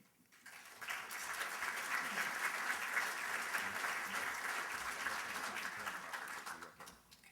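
An audience at a broadband summit breaks into sustained applause to welcome a keynote speaker, a broad, even wash of clapping that swells quickly, holds steady for several seconds, then tapers off.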